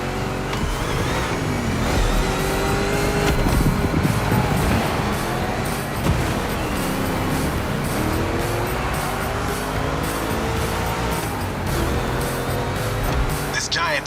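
A monster truck engine revs and roars steadily while racing in The Crew Motorfest, a loud, continuous drone with shifting pitch, heard with a commentator talking over it.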